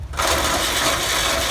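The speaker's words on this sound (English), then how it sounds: "He's cutting the exhaust off" A power tool cuts off the exhaust pipe on a 1993 Ford Centurion truck, a loud, continuous, close grinding whine that starts abruptly after a brief pause and holds steady.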